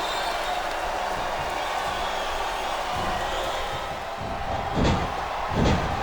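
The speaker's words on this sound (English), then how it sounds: "This capacity crowd is making their opinions heard tonight." A capacity wrestling crowd at a WWE One Night Stand no-rules mixed match, the Great Khali against Michelle, roars in a steady wash of cheering and shouting, with two louder swells near the end.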